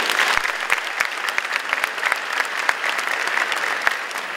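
Audience applause fills a high school graduation commencement ceremony, steady dense clapping from a large crowd throughout, close and continuous with scattered sharper claps standing out.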